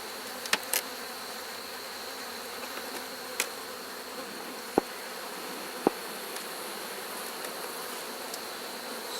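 Soft, steady honey bee buzzing hums throughout from an opened hive, with a few sharp clicks and taps popping out above the drone.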